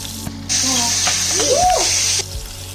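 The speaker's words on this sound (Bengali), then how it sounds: "এরপর গরম তেলের মধ্যে দারচিনি, এলাচ, লং, তেজপাতা," Whole spices (cinnamon, cardamom, cloves and bay leaves) hit hot oil for Bengali mutton kosha, giving a steady bright sizzle that starts abruptly, holds for under two seconds and cuts off, with a brief voice-like tone partway through.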